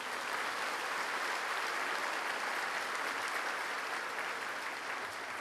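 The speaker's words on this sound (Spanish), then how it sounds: "Fuertes aplausos para el Señor." A church congregation at Mass applauds together in a steady, dense wash of clapping that holds evenly for several seconds, sounding from a large room.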